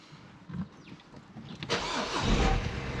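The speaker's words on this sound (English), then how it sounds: "the car starts really nicely" A Citroen C4, a car that starts but will not drive, cranks over and catches, settling into a loud, steady engine idle close by with no talking.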